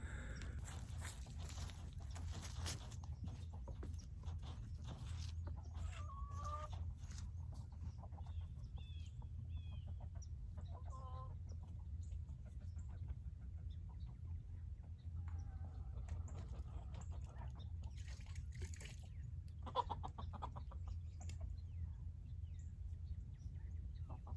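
Hens cluck softly now and then, a few scattered calls over a steady low rumble of background noise, with no talking.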